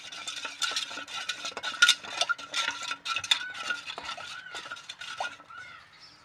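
A spoon stirs urad dal and red rice flour with salt into water, scraping and clinking against the vessel in quick, uneven strokes, close and fairly quiet with no voices.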